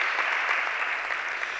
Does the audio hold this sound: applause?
yes